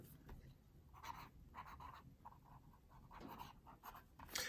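A Jacques Herbin Sloop fountain pen with a springy nib scratches across paper, faint close-up scribbling in short uneven strokes and pauses, quiet and alone.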